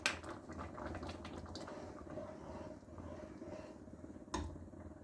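Aloo bukhara plum chutney simmering in a pot, a soft steady bubbling and gentle plopping, faint and close, with a brief louder splash near the end.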